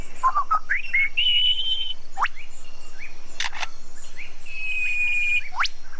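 Lyrebird mimicking a camera, with sharp clicks and shutter-like bursts mixed among whistled, chirping notes, fairly close and clear over a quiet background.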